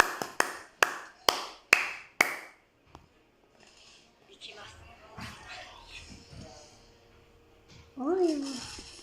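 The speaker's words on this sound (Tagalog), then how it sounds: "Palakpak lang yun." Six sharp, close hand claps in a quick, steady rhythm, then a person talks quietly with a few soft noises in the background.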